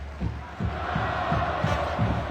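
A football crowd applauds and roars in a stadium during a Salonika versus Cukaricki match, a steady wash of clapping and cheering with low rhythmic thumps, fairly loud and continuous with no clear talk on top.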